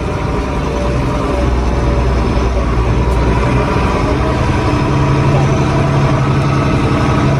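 A tractor engine idles loud and close in a dense, steady low rumble with no change in pitch throughout.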